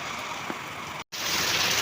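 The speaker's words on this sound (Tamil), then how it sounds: "பாருங்கள் எப்படி மழை பெய்யுதுன்னு." Heavy rain during Cyclone Fengal, a dense steady hiss of downpour filling the air, broken by a brief dropout before resuming slightly louder.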